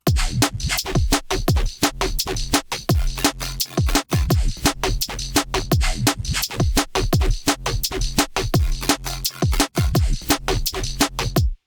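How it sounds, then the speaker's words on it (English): Fast, dense neurofunk drum and bass beat with hard-hitting kicks and snares in a busy, aggressive pattern, loud and continuous with no voices. "Drum and bass / super heavy neurofunk drums in a matter of minutes"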